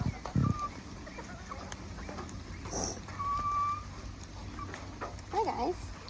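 Sumatra chickens cluck and murmur nearby in short bursts, with a soft vocal sound now and then over a quiet background.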